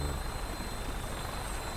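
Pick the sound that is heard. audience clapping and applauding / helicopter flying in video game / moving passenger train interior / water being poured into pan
helicopter flying in video game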